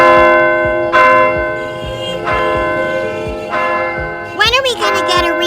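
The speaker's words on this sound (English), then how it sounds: "We live in the best bell tower in the world" A large bell in a bell tower tolls at midnight, three loud, slow strokes that each ring on and overlap, with a brief voice breaking in near the end.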